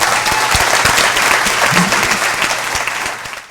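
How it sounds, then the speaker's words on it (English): Loud, sustained applause from a crowd, dense and even, tapering off toward the end. "Can we have a round of applause,"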